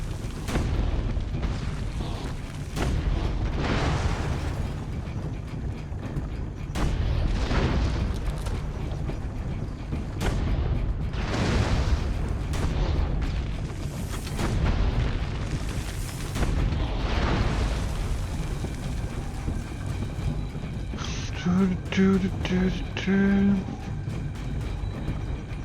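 Repeated heavy booms and cannon-like blasts roll through a dense, loud battle din in Assassin's Creed Brotherhood, with sharper bursts scattered throughout and a few tonal chimes near the end.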